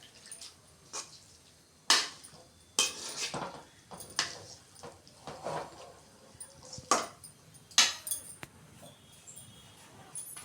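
A metal ladle scrapes and knocks against a pan while beetroot poriyal is stirred, giving irregular sharp clanks and scrapes spaced a second or two apart, close and clear over a quiet background.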